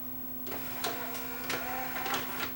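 A Yamaha CDC-705 CD changer's disk drawer, with a suspected slipping belt, runs open with a steady mechanical whir and a constant motor hum, punctuated by several soft clicks and clunks at irregular intervals, close and moderately quiet.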